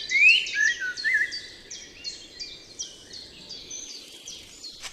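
Blackbird singing in a forest, a series of clear fluting phrases repeated every half second or so, bright and fairly close at first, then softer, over quiet woodland background.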